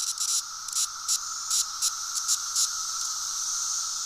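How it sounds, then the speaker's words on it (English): A North American annual cicada calls with a steady high buzz and pulsing bursts over a faint hiss, with no voices. "your North American cicada that's a yearly one that you'll hear at night sometimes or during the day"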